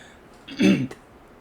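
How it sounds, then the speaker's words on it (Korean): A single short cough or throat-clear, close and fairly loud, in an otherwise quiet room. "차가운 물을 마시더니 기침이 나오네요."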